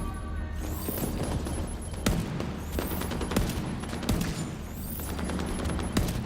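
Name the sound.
gunfire shooting grenades out of the air in The Division 2 video game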